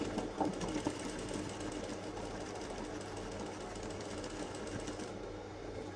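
A sewing machine stitches pieces of Aso Oke fabric together, a quiet steady rapid whirring and clatter running nearly the whole stretch, close by with no talk.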